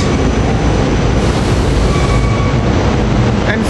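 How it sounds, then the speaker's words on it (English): Norristown commuter train 8266 pulls into 30th Street station at rush hour, a loud, steady rumble of rail cars rolling close by, with faint wheel squeal near the end. "Here we got the Norristown train 8266 coming in."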